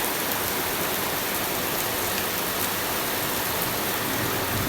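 Heavy rain pouring down alongside rainwater running off, a dense, steady hiss that stays loud and unbroken throughout, with no voices.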